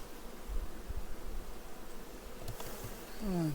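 A low, steady bee buzz hums close by amid faint rustling outdoors near goldenrod, with a rising drone toward the end.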